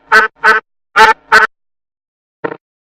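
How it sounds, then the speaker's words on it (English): A duck quacks four times in quick, loud, evenly spaced calls, followed after a pause by one softer quack. "duck."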